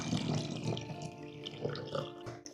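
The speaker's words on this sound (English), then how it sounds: "We fill it up with water." Water runs steadily into a bottle with a continuous gurgling, splashing stream, fairly quiet and close, with a few clinks toward the end.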